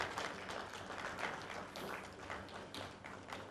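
An audience at a business panel meeting applauds to welcome a panelist. The clapping is faint and steady, a dense patter lasting the whole moment.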